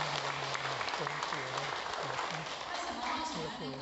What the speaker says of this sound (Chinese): 无大家先个掌声感谢咱知爱的讲师